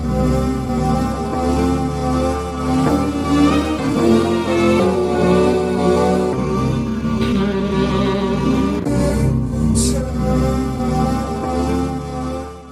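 Chopped, effected sample of a 2020 track, a dense, steady wash of layered tones and sustained chords playing continuously at full level with no voices.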